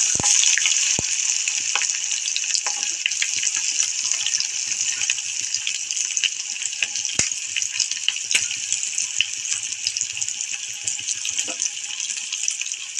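Curry leaves, a pinch of asafoetida and onion fry in hot oil in a pan for a capsicum dish, giving a steady, loud, continuous sizzle with faint crackles and no talking.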